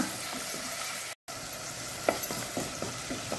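Chopped onions fry in oil for a Mangalorean prawn dish, giving a close, steady sizzle with light stirring scrapes, briefly cutting to silence partway through.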